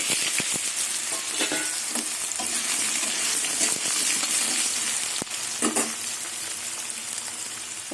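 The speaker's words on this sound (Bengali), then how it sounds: "আলুটা একটু ভেজে নেব ভালো করে কিছুক্ষণ" Potatoes fry in a pan with a continuous hiss and sizzle, broken by a few stirring scrapes and light metallic clinks, close by with no talking.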